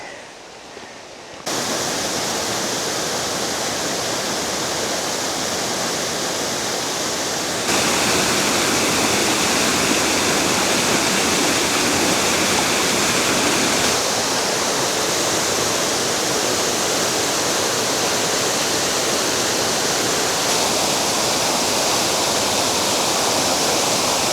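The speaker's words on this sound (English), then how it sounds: "listen to this rushing water" Rushing water of Indian Flats Falls on the Middle Prong in the Smoky Mountains, a loud, steady, close roar of falling water that never lets up, with no voices.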